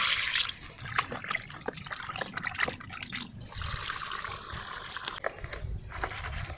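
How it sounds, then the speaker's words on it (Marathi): Raw chicken is washed by hand in water, with close trickling, splashing and sloshing sounds coming in irregular bursts. "चला आपण आता हे चिकन एकदम चकाचकाचं धुवून घेऊ पाण्यामध्ये"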